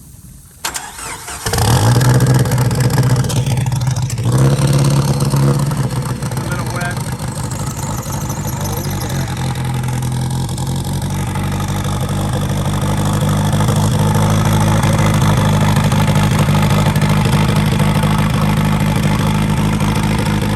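A turbocharged four-cylinder Jeep engine cranks and catches at about two seconds, then settles into a steady, loud, rumbling idle, with a brief spoken remark near the start.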